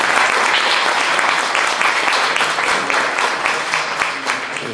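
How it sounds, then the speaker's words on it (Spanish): Loud, dense applause from a recital audience at a library in Ciudad Mendoza greets the cello teacher, sustained and even with no voices over it. "por favor un aplauso para el maestro"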